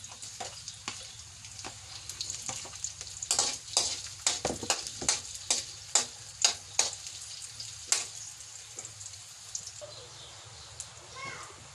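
Onion and garlic sautéing in a pan, cooked outdoors with bullfrog. A continuous soft sizzle runs under a quick run of clattering spatula scrapes that grow busier midway and then thin out, fairly faint overall.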